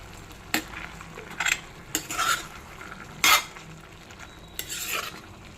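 Tamarind being stirred into tomato pickle in a pan over medium heat, a quiet sizzle with a series of sharp spoon scrapes and clinks against the metal pan at irregular intervals.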